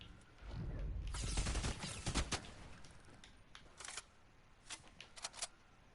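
Video game gunfire crackles in a dense burst early on, followed by scattered sharper shots further off, fairly faint overall.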